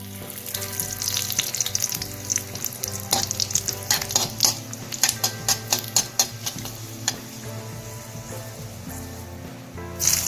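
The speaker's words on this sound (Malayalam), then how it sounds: "കടുക് പൊട്ടി വന്നു കഴിഞ്ഞാൽ അതിലേക്ക് നമുക്കിനി വറ്റൽമുളക് ഇടാം" Dried red chillies fry in ghee with mustard seeds for spiced rice: loud, close crackling and rapid irregular pops over a steady sizzle, with stirring clatter.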